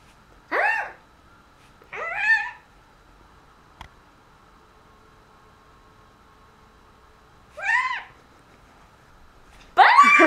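A cat meows four times with long quiet gaps between, close and clear, the final meow louder and more strained, with a faint tick midway through.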